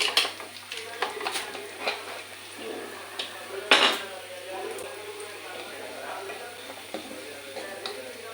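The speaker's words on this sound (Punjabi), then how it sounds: "ਕੁੱਕਰ ਨੂੰ ਹੁਣ ਖੋਲ ਲੈਣੇ ਆ" A pressure cooker being opened in a home Punjabi kitchen while urad dal (maa di dal) cooks: light metal clinks and scrapes, then one sharper metallic clank midway, moderately close in a quiet room.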